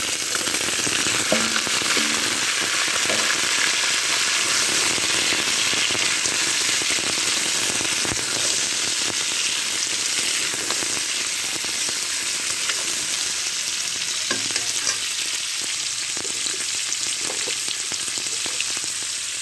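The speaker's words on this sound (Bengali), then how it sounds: "এবারে কাঁকড়াগুলো দিচ্ছি" Crabs frying in a pan for a crab curry, a loud continuous sizzle and crackle with occasional stirring, close and steady with no talking.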